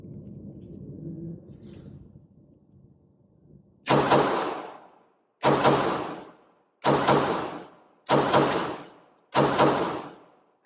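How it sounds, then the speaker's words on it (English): A Walther PPQ .45 pistol fires five sharp, loud shots, evenly spaced about a second apart, each with a short fading echo. A faint low rumble of background noise comes before them. "you can see I'm doing double taps pretty fast, and this thing's super controllable"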